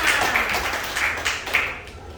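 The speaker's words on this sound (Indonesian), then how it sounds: "Dan tepuk tangan." A class of children clap their hands together in a dense, steady burst of applause that stays fairly loud throughout and carries no speech.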